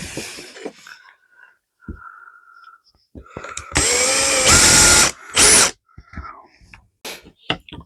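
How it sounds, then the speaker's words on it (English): A power drill bores a pilot hole into a centre-marked 30-centimetre wood piece, two loud whirring bursts of about one and a half seconds and half a second, close up, after quiet handling noises. "I'm just going to drill"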